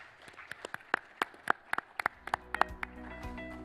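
Audience applause at an evening fireside chat event, scattered individual claps rising and thinning over a few seconds, moderately near, with no talk over it.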